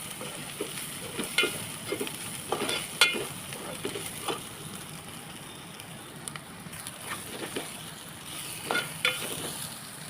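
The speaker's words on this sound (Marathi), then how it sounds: "हिंग पावडर घातलेले व्यवस्थित तेलामध्ये परतून घ्यायचं" Asafoetida powder fries in hot oil for a quick okra stir-fry, giving a soft continuous sizzle broken by scraping stirs and occasional spatters, close up with no talking.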